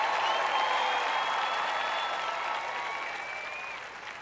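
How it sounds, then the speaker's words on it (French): A French-language Christian conference audience breaks into sustained applause with scattered cheers and whistles, loud and steady from the start and slowly tapering off. "Maintenant, vous pouvez applaudir et faire du bruit."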